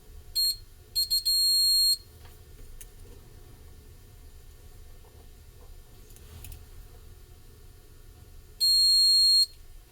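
Continuity beeps from a multimeter probing the wiring of a 1956-57 Baldwin #355 diesel model locomotive: a few short tones near the start, then one steady beep near the end, over a faint background hum.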